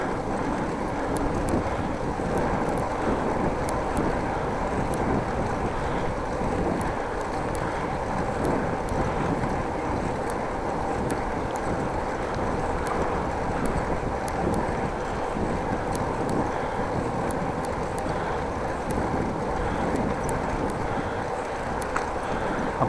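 Steady wind rushing over the microphone while cycling outdoors through Beijum in Groningen on a cold afternoon, a constant broadband roar with no break, close and moderately loud.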